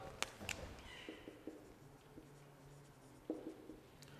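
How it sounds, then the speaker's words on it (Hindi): Chalk or marker strokes on a board during a chemistry lecture, several short tapping and scratching marks in quick bursts, faint and close, over a quiet room hum with no talk. "एग्जाम्पल लिखेंगे"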